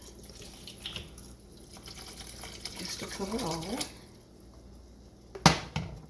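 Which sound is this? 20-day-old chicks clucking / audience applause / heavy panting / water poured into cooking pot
water poured into cooking pot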